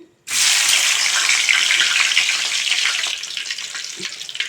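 Small kaddi fish dropped into hot oil in a home kitchen pan, a loud hissing sizzle bursting on at once and holding steady, easing slightly toward the end, with no talk.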